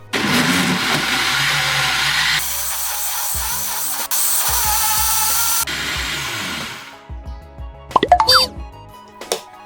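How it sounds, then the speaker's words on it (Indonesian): An electric blender grinds a spice paste with salt and cooking oil, a loud whirring motor running in steady bursts that shift pitch, then stops before a few clattering knocks and scraping sounds. "Blender hingga halus."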